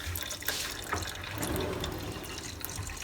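Water runs from a tap or hose during a plumbing job where the customer reports low water pressure after a new tank was fitted, a steady, close rushing stream with faint splashes.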